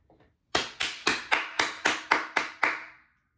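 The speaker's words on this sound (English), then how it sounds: "I gotta clap for her" Nine loud, sharp hand claps in a steady, slightly slowing rhythm, close and alone with no talk around them.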